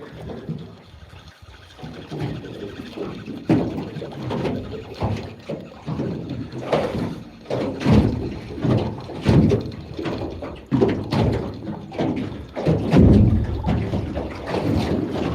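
A small fishing boat runs in toward shore at sea, with a continuous rushing blend of hull, water and engine noise and heavy wind buffeting the microphone in uneven gusts.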